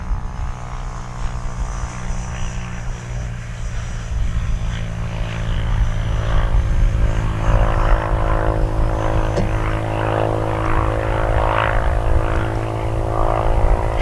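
A Freewing Vulcan 6S RC jet with its landing gear down flies low past, its steady turbine-like roar with a faint whine swelling and holding loud and close throughout, with no talk.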